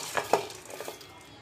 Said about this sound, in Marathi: आता हे ज्वारी कुकरमध्ये टाकून घेऊया